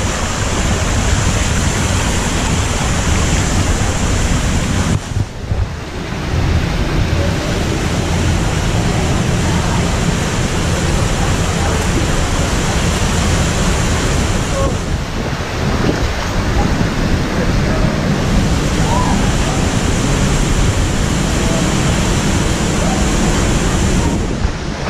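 Cold glacial stream and a hidden waterfall at the end of a narrow crevice in Iceland, a dense unbroken roar of falling water filling the space, loud and close, with brief dips as the microphone shifts.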